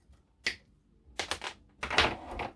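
Wire is cut on the chassis of a Tamiya Scania 770S 8x4 heavy hauler RC truck, heard as a few sharp, close snips and clicks in quick separate bursts against a quiet background.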